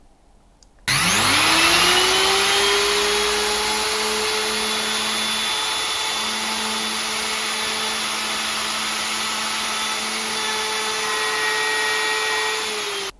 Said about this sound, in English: I used a straight cutting bit on the router to cut them out